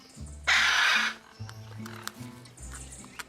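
A pair of parrots at a zoo squawk and chatter close by, with one loud harsh burst followed by several shorter, rougher calls and grunts.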